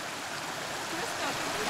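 Mountain stream in the Dolomites of South Tyrol, Italy, running over stones: a steady broadband rush of water, fairly close and continuous, swelling slightly toward the end with no talk over it.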